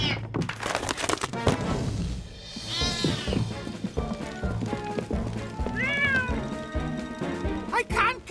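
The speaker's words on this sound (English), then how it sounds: "Oh, that cat is really getting on my nerves." Cartoon cat meowing repeatedly in the animated Fireman Sam series, rising yowls scattered across the scene amid background music, thumps and characters talking.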